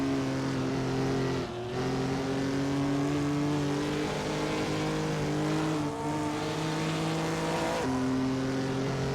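Race cars leave the pits in a 1950s racing video game, with steady engine drones whose pitch rises and shifts through gear changes, several engines overlapping at close range without any talking.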